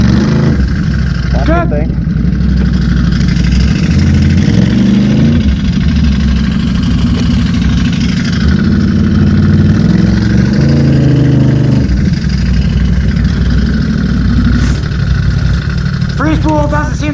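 A Can-Am Renegade ATV engine runs loud and close in the Glades while its clutches are tested, a continuous rumbling idle with small revs rising and falling, with brief talk over it.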